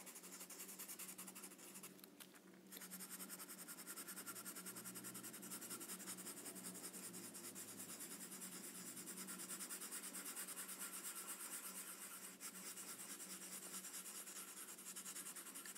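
Dry pastel stick, a warm dark grey, rubbing steadily over paper while shading a dog's nose, a continuous close scratchy stroking that runs alone for the whole stretch.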